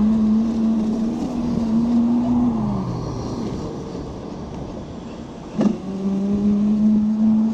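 A mini motorbike engine hums steadily on a street ride between traffic lights. Its pitch sags and fades, then rises again as it revs and accelerates after a brief knock, with no voices.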